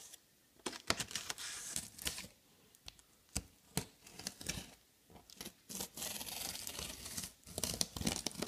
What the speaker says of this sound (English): I got a box in the mail today. And we can open it. Once I find something to cut it with.